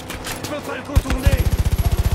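Rapid automatic gunfire in the shooter Far Cry 5, a fast even stream of loud shots building near the end amid game noise.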